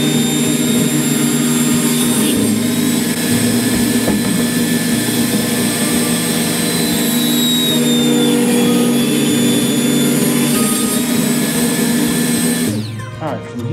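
A power saw slices two inches off each side of a wooden board for a bait board, a loud, continuous high whine with a strong tonal hum that runs nearly unbroken and cuts off at the very end.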